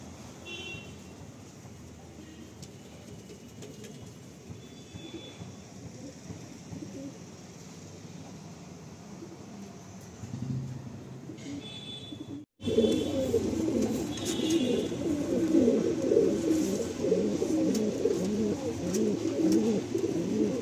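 Kalsira pigeons coo inside a loft. Soft repeated coos come first, then the sound turns louder and busier with many overlapping cooing calls close by.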